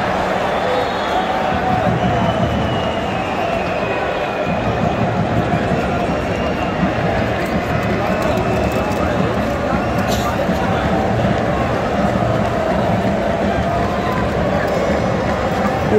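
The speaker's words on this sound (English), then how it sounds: "People are cheering for Brazil" A stadium crowd of Brazil fans at a World Cup 2022 match against Switzerland, a dense continuous roar of cheering and babble heard from within the stands, steady and loud for the whole stretch.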